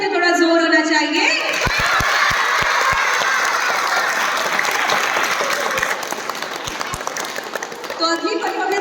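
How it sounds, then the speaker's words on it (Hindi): Clapping from a school audience at an inter-house children's poetry recitation competition, a sustained roar of applause with scattered sharp claps and some shouts, briefly framed by an amplified voice at the start and end. "आपकी तालियों में भी तो थोड़ा जोर होना चाहिए"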